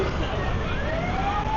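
An ambulance siren wails with a rising tone over the low rumble of motorcycles and cars on a busy Saigon street at night.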